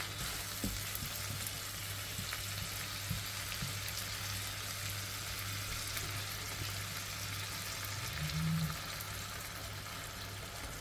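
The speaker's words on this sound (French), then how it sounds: "Après, je vais verser la purée de tomates." A 500-gram can of tomato purée goes into a hot pan for gluten-free squash and veal lasagne, over a soft, continuous frying sizzle with a brief louder swell near the end.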